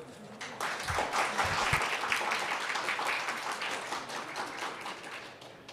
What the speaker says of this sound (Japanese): それではマリーナさんを拍手でお迎えください